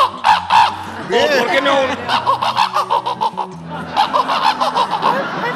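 During a stand-up comedy act, a voice mimics a rooster crowing as a phone ringtone, giving quick repeated squawking bursts close to the microphone, mixed with brief speech.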